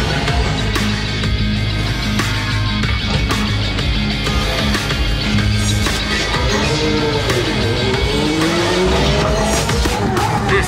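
Formula One race cars from around 2008–2009 roar at speed with high engine whine and squealing tires, loud and continuous, with sweeping pitch changes as cars pass.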